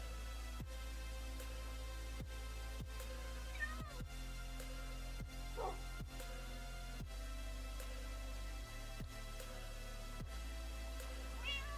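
A cat meows a few times, fairly faint, over a steady hum and regular ticking from a Minecraft Modern Skyblock gaming session; nobody speaks.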